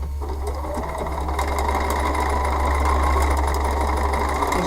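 A sewing machine runs steadily and close throughout, stitching a foundation paper pieced pumpkin with a continuous motor drone and rapid needle chatter at an even pace.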